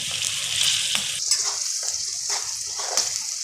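Onions and peas fry in a pan with red chilli powder, giving a steady loud sizzle broken by several scraping stirs of a spoon.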